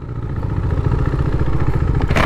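A motorcycle riding off-road rumbles close and loud with a steady, throbbing engine note throughout, ending in a short clattering burst.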